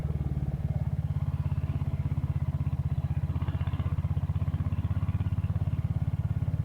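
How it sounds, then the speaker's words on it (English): A Royal Enfield motorcycle rides along a British country road, its engine giving a steady, close, even thumping beat that holds throughout without talk. "and as Aussie Biker Dude says, you're never lost on a Royal Enfield."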